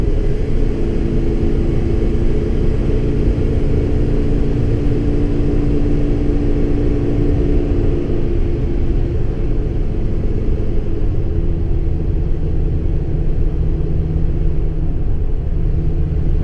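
A 2017 Ford F-650 truck's engine laboring up a slight incline, a loud, constant deep rumble and drone heard from inside the cab, its pitch shifting partway through as the transmission downshifts.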